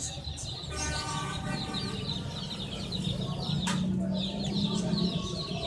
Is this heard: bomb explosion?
no